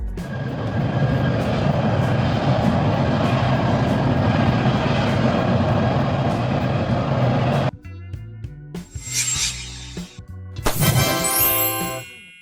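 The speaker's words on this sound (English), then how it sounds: "The big wind fire truck is a unique firefighting vehicle that uses jet engines mounted on a tank chassis to blast water or foam" Roaring jet engines of the Big Wind fire truck, mounted on a tank chassis, a loud steady broadband blast for several seconds that cuts off abruptly, followed by louder intermittent bursts and whines.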